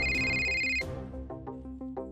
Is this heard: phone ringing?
yes